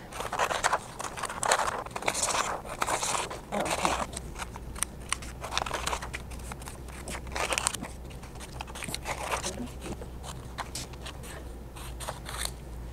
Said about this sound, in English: grab our number sheets and our scissors, and we are gonna cut them out.